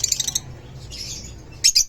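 A pet opaline lutino ino-line bird gives short, bright chirps close by: a quick burst at the start, a softer trill in the middle and two more sharp chirps at the end.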